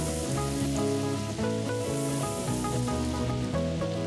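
Battered fish frying tempura style in a pan of hot oil, a loud, steady crackling sizzle that runs unbroken and close, with no voices over it.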